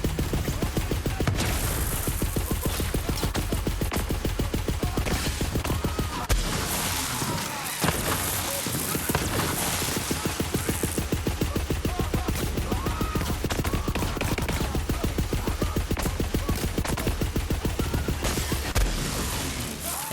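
Rapid submachine gun fire in the Borderlands 3 video game rattles almost continuously in fast bursts, punctuated by occasional impacts and explosions.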